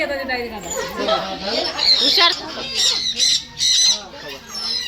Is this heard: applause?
no